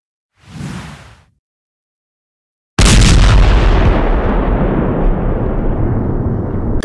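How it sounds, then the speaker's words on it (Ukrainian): Artillery fires on the Bakhmut front: a short whoosh, then after a gap a heavy, loud blast that rolls on and slowly decays into a long rumbling tail. "Так знищують окупантів на Бахмутському напрямку бійці 2-го стрілецького батальйону імені Тараса Бабанича"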